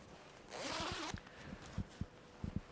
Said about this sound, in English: This zip is also double, so when it's a bit too warm, you can open the bottom for ventilation.